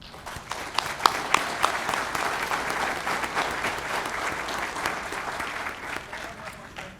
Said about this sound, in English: I think we owe these two gentlemen a big round of applause